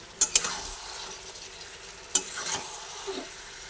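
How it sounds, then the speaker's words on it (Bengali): Stirring a curry of eggplant, potato and capsicum in a pan, with a few sharp scrapes of a utensil against the pan over a soft, steady sizzle. "এটা দেওয়ার পরে আবার ভালোভাবে একটু নাড়াচাড়া করে নিই"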